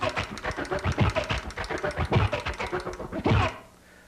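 Vinyl record on a DJ turntable being scratched back and forth to mimic a transformer effect, a dense run of choppy, stuttering cuts switching on and off rapidly for about three and a half seconds before stopping.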